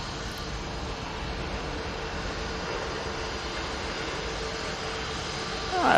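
A British Airways airliner departs, a steady broadband engine roar that stays even at moderate distance and swells slightly at the very end.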